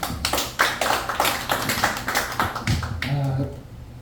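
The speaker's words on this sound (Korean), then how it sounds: "우리 박수 한번 부탁드립니다" Applause breaks out in a church gathering as a run of sharp, uneven claps, fairly close and sparse, with a voice speaking over the tail end.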